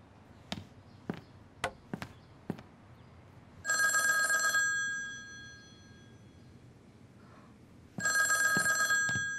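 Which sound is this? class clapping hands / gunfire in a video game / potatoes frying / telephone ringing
telephone ringing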